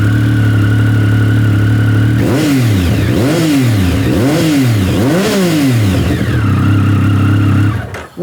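Naked motorcycle fitted with a pair of Leo Vince slip-on exhausts, revved on a forecourt: a steady idle broken by four quick, loud throttle blips in a row, then settling back to idle before cutting off.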